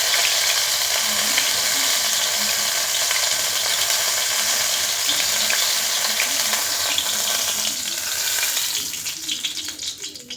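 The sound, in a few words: food frying in oil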